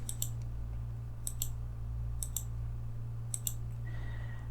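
A computer mouse clicking during Revit modelling work, four evenly spaced crisp double clicks, faint over a steady electrical hum, with a brief tone near the end.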